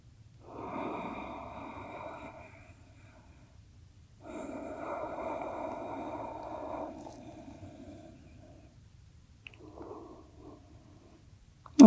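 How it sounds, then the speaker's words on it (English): Slow, deep yoga breaths, inhales and exhales, sound close and soft. Two long breaths are followed by a shorter third, with quiet pauses between them. "take some slow, deep inhales and exhales here"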